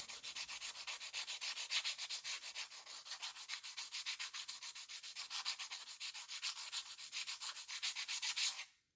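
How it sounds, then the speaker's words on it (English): A wooden dowel rubbed smooth with sandpaper, giving a rapid, even back-and-forth rasping that repeats steadily for about eight seconds, close and alone, then stops. "And with your sandpaper, just smooth it out."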